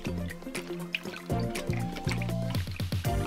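A mild soap solution swirled and stirred in water, with close, gentle sloshing and dripping liquid sounds for a few seconds; there is no speech.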